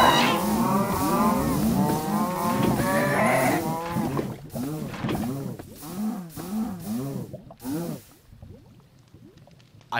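Cows in the Minecraft video game moo repeatedly in overlapping, drawn-out lows that come loud and close at first, then grow more broken and scattered toward the end.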